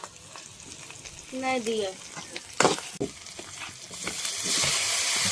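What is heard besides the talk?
cumin frying in a pan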